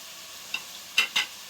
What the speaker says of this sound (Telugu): అది వేసుకున్న తర్వాత ఈ టమాటాలు కూడా వేసేస్తున్నాను. అన్నీ వేగిపోతాయని చెప్పేసి